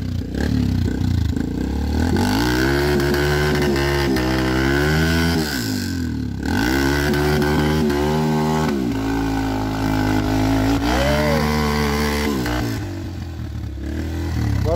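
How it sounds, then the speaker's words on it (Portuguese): A motorcycle climbs a rocky trail, its engine loud and close as it revs up and down in repeated surges, with clatter and scraping from the rough ground. "A moto foi."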